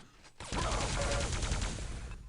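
Quake railgun shots and other weapon fire in a fast online match, a dense, loud burst of rapid repeated blasts and crackling impacts lasting about two seconds.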